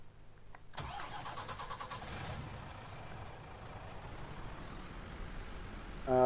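A truck engine in the video game Farming Simulator 19 cranks briefly, catches and rises into a steady mid-pitched idle, close and clear, with no talking over it.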